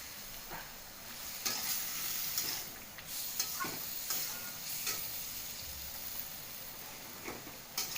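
Potatoes, pointed gourd and chillies fry with spices in a hot pan, a constant hiss broken by louder spits and stirring scrapes, no voices.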